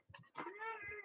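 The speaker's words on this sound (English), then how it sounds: "Oh, there's a kitty." A cat meows loudly and close by: a couple of short chirps, then one long, drawn-out meow.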